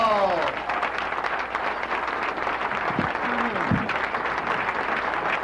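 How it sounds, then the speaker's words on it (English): Comedy club audience applauding a comedian as he takes the stage, a steady, dense wash of many hands clapping throughout, with a few brief voice sounds in the middle. "Thank you for that applause."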